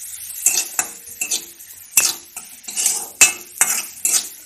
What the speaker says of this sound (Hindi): और इसको अच्छे से मिलाएंगे।